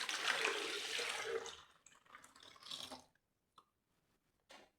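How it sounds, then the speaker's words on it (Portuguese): Warm water pours into a basin, a splashing gush for about three seconds that tapers off, followed by a few faint drips and a short final trickle. "Vou despejar a água morna."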